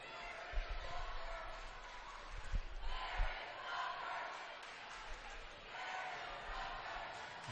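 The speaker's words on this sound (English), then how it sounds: "The pep crowd yelling" A pep crowd yells at a high school boys' basketball game in a gym, a distant, murmuring roar of voices with scattered bursts of shouting and faint thumps.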